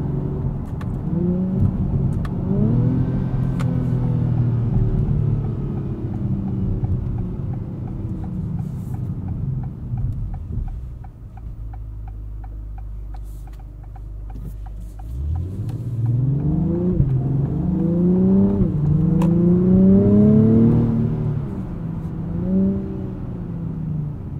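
A 2024 Acura TLX Type S in Sport Plus mode revs hard through two rising acceleration pulls separated by a quieter, lower-pitched lull. The engine is loud and close, heard from inside the car, with no talking.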